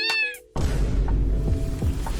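A cat meows near the start in a short, clear, rising-and-falling cry with harmonic tones, then a sudden burst of loud, rumbling background noise takes over for the rest.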